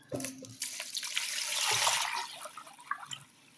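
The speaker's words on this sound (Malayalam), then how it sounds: "നല്ലോണം വെള്ളം ഒഴിക്കണം" Water gushes into a kneaded mixture for Kerala black halwa (karutha halwa), a short, splashy pour that swells and then tapers off with a few drips, with no voices.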